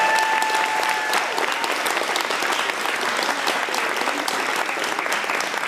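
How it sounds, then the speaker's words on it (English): An audience applauds after a theater company's play performance, dense sustained clapping from a full house that stays loud and even from start to finish. "Let's give one more big round of applause for our lovely Playworks company."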